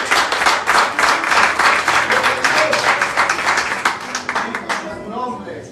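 A church congregation claps rhythmically in praise to the Lord, loud sustained clapping with voices and music mixed in, fading out near the end.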